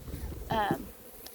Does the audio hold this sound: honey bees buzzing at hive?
yes